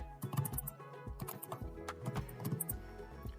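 Someone types a command on a computer keyboard, a run of close, crisp key clicks in uneven bursts with short pauses, with no talking.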